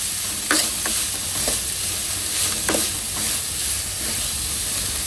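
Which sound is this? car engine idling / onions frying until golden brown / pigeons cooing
onions frying until golden brown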